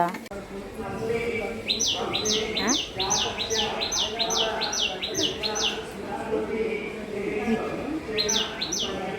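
Small bird chirping at home in a kitchen setting, a quick series of high repeated chirps in bursts that returns near the end, heard under ongoing kitchen noise and a voice.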